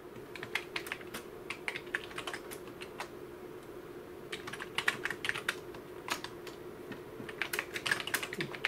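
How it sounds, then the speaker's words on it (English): Fingers tap out a short program on a computer keyboard in quick, uneven bursts of light clicks, close-up and fairly quiet over faint room hum. "So I can type in a little program."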